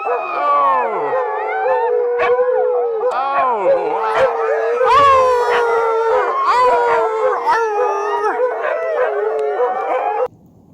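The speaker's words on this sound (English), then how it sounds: "the video from your mission when all the dogs were around you were howling" Dogs and huskies howl together at a wolf sanctuary, several overlapping long rising and falling howls with yips, loud and close, until they stop abruptly near the end.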